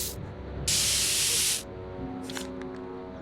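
A spray can hisses in a Back to the Future video game: one loud, steady burst of about a second, then fainter short sprays over a low game background.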